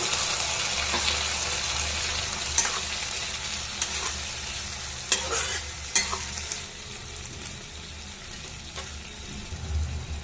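Ground spice paste is stirred into fried okra in a hot pan, with a spoon scraping in several distinct strokes over a steady close sizzle.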